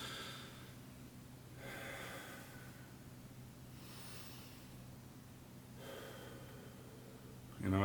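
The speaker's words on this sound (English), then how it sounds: "Take some slow, soothing breaths." Several slow, calm breaths drawn in and let out at an unhurried pace, soft and close against a low steady hum, ending with a brief louder bump.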